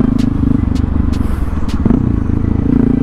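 A Honda XR650L motorcycle engine after a cold start at about 25 degrees, idling roughly and revving close by, with a steady throbbing rumble and a few sharp bursts of throttle.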